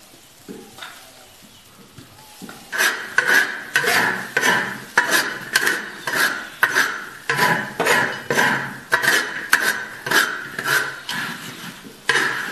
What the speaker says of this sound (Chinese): 把这些香料炒香啊